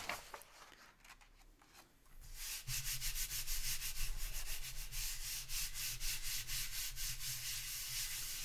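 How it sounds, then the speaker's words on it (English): Paint scraped across parchment paper in an art studio, a steady loud rasping scrape running continuously after a quieter start with a brief spoken word. "Now let's see if we can't scrape that out a wee bit."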